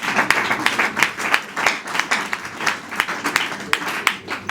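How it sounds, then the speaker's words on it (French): Sparse, hesitant applause from wedding guests at a civil ceremony, a loose scatter of claps that rises and fades over several seconds, with some murmuring voices underneath. "j'ai constaté que les applaudissements sont timides."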